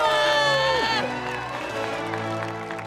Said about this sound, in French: Alors applaudissez les grands champions de cette épreuve